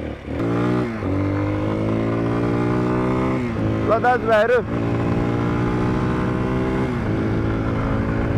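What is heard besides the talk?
Zonsen 250 motorcycle engine revving on test ride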